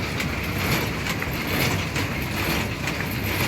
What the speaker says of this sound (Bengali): এটা হলো পেপার কাপ মেশিন। এটা হলো এখানে পেপার দেওয়া হয়, আর এখানে একটা একটা করে পেপার যায়।